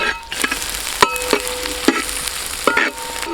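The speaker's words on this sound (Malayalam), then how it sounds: "തേങ്ങാക്കൊത്ത് ഈ കൂടെ തന്നെ തേങ്ങാക്കൊത്തും കൂടെ ഇടാം." Long, thin coconut slivers frying in a pan for beef head roast, stirred with a spatula: a constant sizzle broken by several sharp metallic scrapes and knocks, close and fairly loud.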